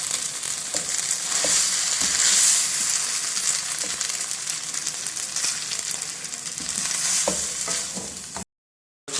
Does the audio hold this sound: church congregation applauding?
no